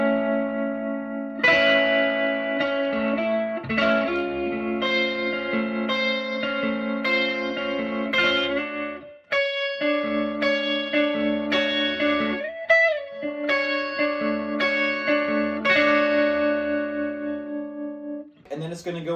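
An electric guitar with effects plays a song, picking single notes and then strumming chords, ending with a final chord up-strummed. The playing is close and continuous, with no talking.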